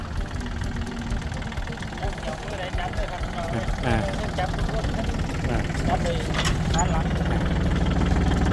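A 2021 John Deere 3036E tractor engine idles with a steady, close diesel rumble and light knock while someone talks over it.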